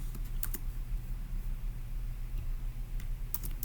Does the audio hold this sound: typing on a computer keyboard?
yes